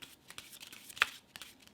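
Playing cards being given a Hindu shuffle, soft quick riffling and slapping of the cards close by, with one sharper snap midway.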